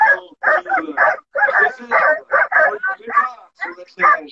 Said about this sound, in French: Regardez ces chiens magnifiques qui n'ont qu'une envie, c'est de s'élancer.